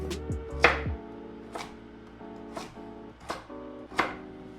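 A knife cubing vegetables on a cutting board, a handful of sharp, separate chops spaced unevenly, close and fairly quiet, with no talk.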